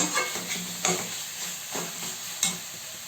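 A tempering of spices for mango dal and leafy greens sizzles in a hot pan, broken by three or four sharp scraping stir strokes over a continuous crackle.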